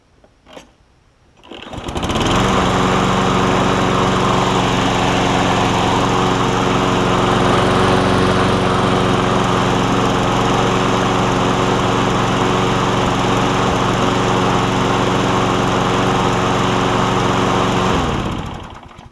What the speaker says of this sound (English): It's always a good thing when you get a running push mower.